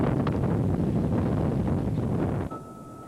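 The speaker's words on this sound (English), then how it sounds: "A cameraman and his crew pinned to the ground as the 130-mile-an-hour winds" Tornado winds with gusts of 130 miles per hour tear through Birmingham in 2005, a loud, continuous roar battering the microphone that drops off abruptly near the end, leaving a quieter hum.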